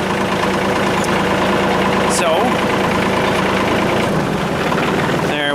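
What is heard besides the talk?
John Deere 2032R tractor engine idling while pulling up slowly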